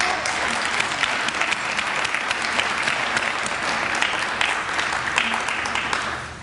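Steady, full audience applause at a book launch, with many hands clapping together at an even level for several seconds.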